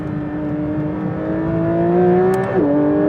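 A Porsche GT3 RS engine idles steadily just after starting, a close, even hum that swells slightly before dipping in pitch near the end.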